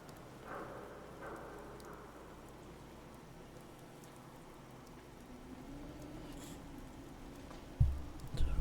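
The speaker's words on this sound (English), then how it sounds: "thinking how wonderful it'd be to get out of this infernal rain." Quiet, steady rain patters in the background of a video game, soft and even, with a few faint thumps near the end.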